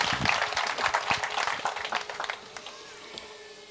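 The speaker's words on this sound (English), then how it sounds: "Clap for them." Guests applaud the couple at a wedding ceremony with lively clapping that starts strong and dense, then thins out to a few scattered claps and fades away over a few seconds.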